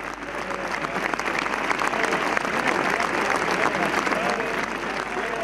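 Sustained applause from many people at a funeral wake, dense clapping that rises quickly and holds steady before easing slightly at the end.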